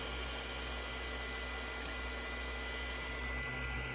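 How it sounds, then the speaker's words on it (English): A 3D printer laying down PLA filament, a steady whirring hum with a faint continuous motor drone, unchanging and close, with no voices. "It's gonna start printing filament."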